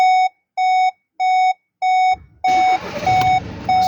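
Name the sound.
Volkswagen Golf GTD door-open warning chime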